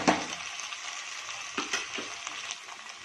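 Carrot, capsicum, green beans and peas sauté in a hot pan, giving a steady broadband sizzle with a few scraping stirs, close and moderately loud with no talk.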